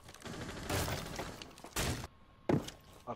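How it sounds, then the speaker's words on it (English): Gunshots go off through a window in Rainbow Six Siege, heard as three separate loud, sharp bursts with short gaps between them. Between the shots there is low game ambience and no talk. "I think they shot him through the window"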